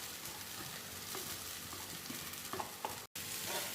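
Wet puffed rice being stirred with spices and amchur in a hot pan, scraping and tossing over a continuous sizzle, with a brief dropout near the end and no talking.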